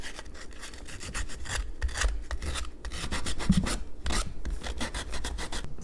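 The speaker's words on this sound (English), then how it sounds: "I'm just going to take these edges and I'm just going to sand" Sandpaper of 120 grit rasps over the edges of a white paper clay drawer knob in steady, close scratching strokes, with no talking.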